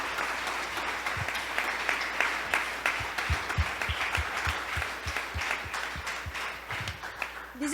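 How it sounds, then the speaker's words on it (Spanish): A church congregation applauds during a Spanish-language Christian sermon, a dense, steady wash of many hands clapping together for several seconds with some voices mixed in. "bueno, aplaudámoslo a Él."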